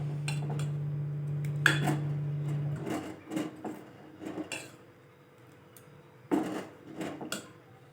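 A spoon stirs a thick batter of sabudana and potato for papad in a pot, giving scattered scrapes and light clinks against the metal, fairly close, with quieter stretches between strokes.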